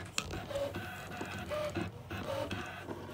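A ScanNCut cutting machine with a rotary blade cuts terry cloth, producing a soft, steady mechanical whir with small motor shifts and faint clicks, close by and without talk.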